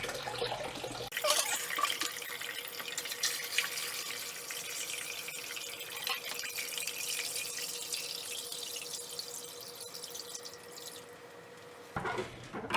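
Water pours steadily into a Nuvo Fusion 10 aquarium during a water change, a continuous close splashing rush that runs for about eleven seconds before stopping abruptly, with no talking.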